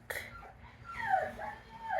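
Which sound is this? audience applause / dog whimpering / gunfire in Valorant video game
dog whimpering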